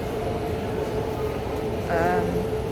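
Train station ambience at St Pancras Station in London, a steady low rumble of trains and hall noise with a brief squeal near the end.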